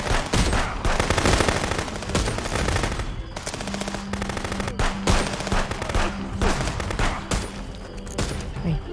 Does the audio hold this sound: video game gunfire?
yes